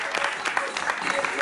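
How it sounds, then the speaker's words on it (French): A club show audience gives dense, lively applause that is steady and close, mixed with a hum of crowd noise. A voice can be heard over the clapping. "On peut l'applaudir très fort encore une fois,"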